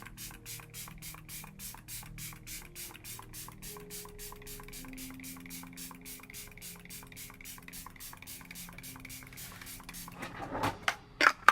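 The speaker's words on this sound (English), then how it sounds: "with this LYS Natural Finish Skin Loyalty Blur Mattify and Set Setting Spray" Setting spray is pumped from a bottle toward a face in a long run of quick, rhythmic, faint misting spritzes, ending in a few louder bursts.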